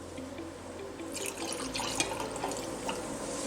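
Water is poured in a laboratory to mix half and half with ethanol, a short gurgling trickle that swells then tapers, close and fairly quiet, with a low hum behind it.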